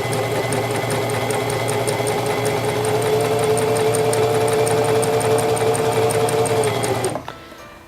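A SINGER Simple 3232 sewing machine runs steadily along a fabric seam for about seven seconds, a close, loud, even motor whir with rapid needle ticking, then stops abruptly.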